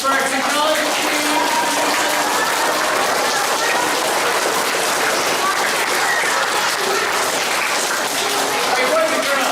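Schoolchildren at a school assembly clap loudly and continuously, a dense, sustained wash of applause from a large group filling the room with no pauses.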